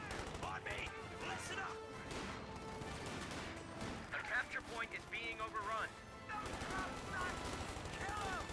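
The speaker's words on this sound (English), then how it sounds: "MG-34 flanking, pins down the rear squad, almost fully wiped out." Rapid bursts of MG-34 machine gun fire echo through a Company of Heroes 2 battle, crackling under steady commentary with scattered explosions and other gunfire in the mix.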